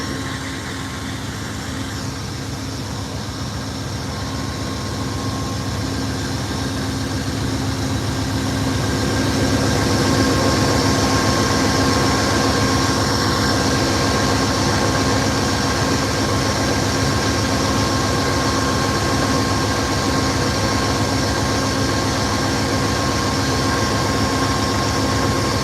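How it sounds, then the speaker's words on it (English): An Amtrak P42 diesel locomotive idles at a station stop in Ottumwa, Iowa, a loud, continuous droning rumble with steady tonal hums that grows slightly louder partway through. "There's our trailing locomotive here, P42 number 11."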